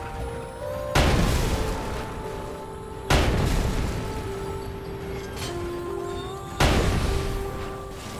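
Tank gun firing in the video game Sand Land: three heavy, booming cannon blasts spaced a few seconds apart, each with a long rumbling decay, loud and close over a steady engine drone.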